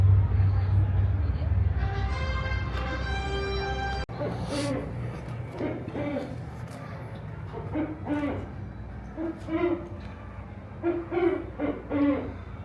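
An owl hoots repeatedly on Tom Sawyer Island at Magic Kingdom, a series of low rhythmic calls, with steady outdoor background noise and people talking over the later part.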